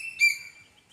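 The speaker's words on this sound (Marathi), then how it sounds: "पक्ष्यांचा आवाज येत आहे." A single short, bright bird chirp sounds near a drinking-water pot set out for birds, with quiet surroundings.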